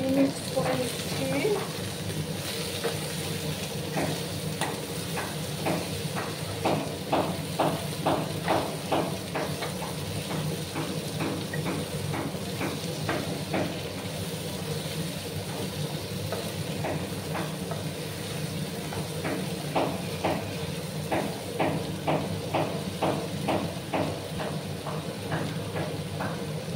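Eggplant stirred with rohu fish bones in a frying pan for chorchori, with a steady sizzle and rhythmic scraping strokes of a spoon repeating throughout, close and continuous.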